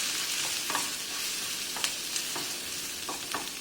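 Onion frying in a pan with vinegar added, a steady bright sizzle throughout, broken by a few soft clicks and stirring scrapes, close and moderately loud with no talk.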